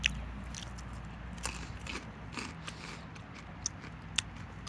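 Someone chews spicy Cheetos Bolitas cheese balls that have gone stale and less crunchy, with scattered soft crunches and bites spread over a quiet mouth-noise background.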